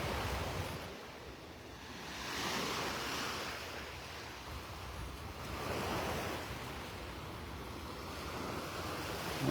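Ocean surf washes onto a shell-strewn beach in North Naples, Florida, in broad swells that build and recede every few seconds, with a steady rush of wind across the microphone throughout.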